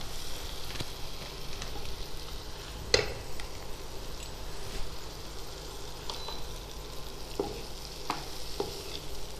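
Vegetables for pasta sautéing in a pan, a soft steady sizzle with intermittent scrapes and clinks of the stirring utensil, one sharper knock near the start.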